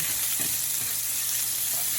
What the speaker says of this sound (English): Nothing beats the smell of frying bacon.